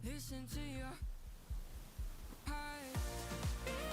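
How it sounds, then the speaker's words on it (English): A heartbeat effect in a singer-songwriter style song from Latvia's Supernova 2025 Eurovision selection: soft, regular low thumps come through in a quiet gap between fuller, sustained musical chords. "Yes, that is the sound the heartbeat makes."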